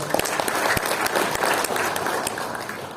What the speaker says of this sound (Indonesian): saya minta teman-teman aplaus Pak Agus Santoso